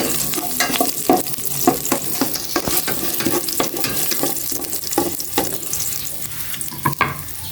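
Ginger frying in hot oil in a pan before garlic and onion go in, a steady close sizzle broken by repeated scraping stirs and clinks throughout, with no talking.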